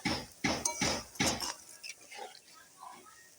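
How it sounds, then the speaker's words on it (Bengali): A metal lid goes onto a cooking pot of spiced cauliflower on a brick stove, several sharp clinks and clanks in quick succession followed by softer faint rattles. "আমি এখন ঢাকাটা দিয়ে দিই"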